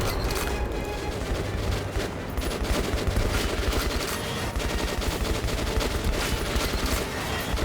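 Sustained automatic gunfire and volleys of shots in the post-apocalyptic shooter Metro Last Light, a dense, loud, continuous rattle with overlapping bursts and occasional heavier booms, steady throughout with no speech.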